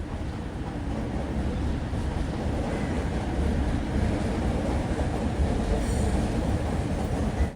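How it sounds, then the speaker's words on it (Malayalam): Metro trains pass together in Kuala Lumpur, a steady, loud rumble of wheels on rail that holds for several seconds with faint squealing overhead and no voices. "ഈ 2 മെട്രോകളും ഉണ്ടല്ലോ ഈ ഭാഗത്താണ് ഒരുമിച്ചെത്തുന്നത്."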